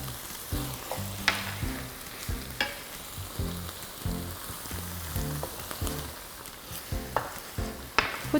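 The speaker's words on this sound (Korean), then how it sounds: "후추와 참기름으로 마무리를 해주는데요." Shiitake mushrooms stir-fried over high heat with pepper and sesame oil sizzle steadily, with rhythmic scraping stir strokes and occasional sharp utensil taps against the pan, close and clear, with no talking.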